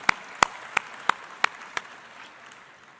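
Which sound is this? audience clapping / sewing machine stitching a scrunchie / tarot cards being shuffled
audience clapping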